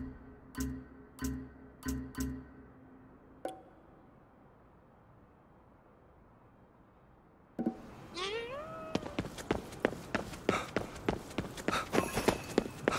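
A cat meows in the game Ghostwire: Tokyo, several rising mews over ticking and pattering steps in the second half, following a stretch of low rumble and a few thuds.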